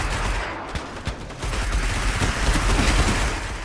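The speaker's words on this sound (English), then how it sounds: "The longer you hold the fire button, the slower it fires, and you have to let it recharge to get it back to full fire rate again." Rapid vehicle weapon fire in the Destiny video game, a dense barrage of sharp blasts and booms layered over a roaring mix, loud and continuous with no speech.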